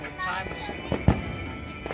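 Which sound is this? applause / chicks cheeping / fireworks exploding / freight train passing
fireworks exploding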